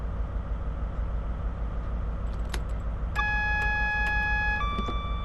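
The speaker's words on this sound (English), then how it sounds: "we're going to have to acknowledge the AWS by pressing this button" A train warning signal in a Class 43 cab sounds in Train Sim World 2: a loud, steady electronic tone starts partway through, holds for over a second, then shifts pitch. Low cab rumble runs underneath the whole time.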